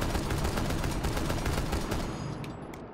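SMG-12 fire in Rainbow Six Siege, a loud, fast rattle of submachine gun shots that cuts off near the end, leaving only a couple of faint trailing sounds.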